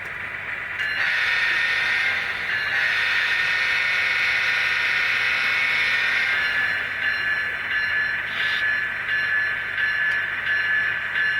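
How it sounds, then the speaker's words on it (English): A train rolls slowly over switches into a rail yard with a loud, sustained hiss and metallic squeal from the wheels, with faint clunks as it crosses track joints. "the train now picks its way over the switches into the yard."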